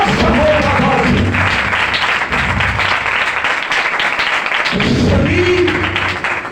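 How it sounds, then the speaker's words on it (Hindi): Congregation in a church clapping for Jesus, a loud, steady wash of applause filling the room, with voices rising over it at the start and again near the end. "और शानदार तालियां यीशु के लिए।"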